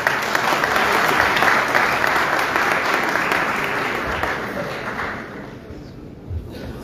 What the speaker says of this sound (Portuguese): peço uma salva de palmas também.